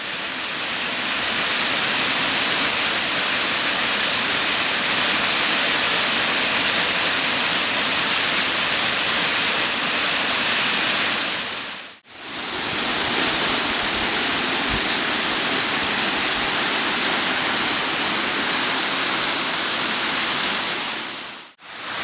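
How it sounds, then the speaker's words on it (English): Cascade Falls in Patapsco Valley State Park, Maryland, roars as a steady, loud rush of falling water heard close by. The noise dips briefly to near silence twice, with no voices. "From there, a view of the brink of the falls is possible."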